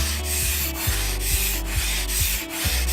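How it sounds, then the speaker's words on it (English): Ice scraped from a car window while it snows, rhythmic back-and-forth rasping strokes roughly every half second, close and loud with no talk. "you have to scrape the inside and it's snowing"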